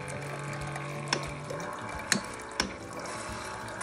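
A Bartesian cocktail machine hums and gurgles as it mixes an Old Fashioned, with a steady mechanical drone broken by a few sharp clicks and knocks.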